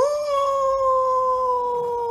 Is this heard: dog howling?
yes